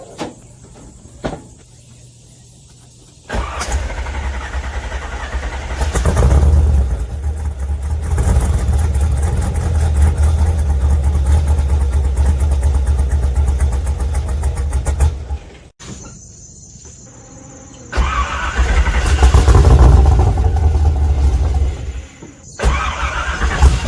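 Chevrolet Camaro ZL1 fitted with BBK longtubes, an SLP X-pipe and axle-back with Cherry Bomb mufflers, cold-starting with a loud crank and roaring flare, settling into a rumbling idle, then blipped again with a second loud surge.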